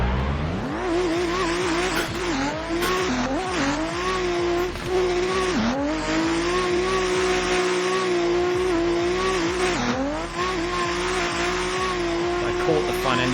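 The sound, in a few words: BMW E30 car driving hard on track, tires squealing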